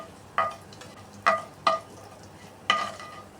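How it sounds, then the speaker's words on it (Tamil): Capsicum frying slowly over a low simmering flame, a quiet bed of sizzle punctuated by four distinct, sharp spatula scrapes against the pan. "நான் வந்து ஃப்ளேமை ரொம்ப சிம்மில் வச்சுட்டு ரொம்ப ஸ்லோவாக இதை வறுத்து விடணும்."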